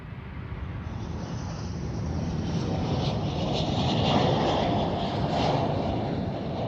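A Delta Air Lines airliner at Amsterdam Schiphol Airport gives a steady, broad jet roar that swells slightly toward the middle and holds loud throughout, with no voices.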